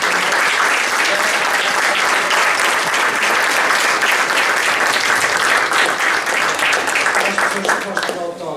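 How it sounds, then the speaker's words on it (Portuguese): An audience at a book event with author Helena Pimentel gives sustained, dense applause, loud and even throughout before tapering at the very end. "eu iria pedir uma salva de palmas para a doutora Helena Pimentel"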